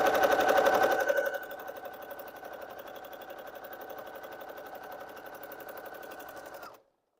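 A sewing machine stitches a quilt seam, running fast and loud at first, then settling into a steadier, quieter mechanical whir before stopping abruptly near the end, no voices.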